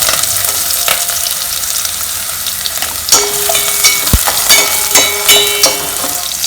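Chopped onion frying in a pan for a Kerala egg curry, with a loud, steady sizzle and occasional stirring scrapes and clicks in the second half, no talk.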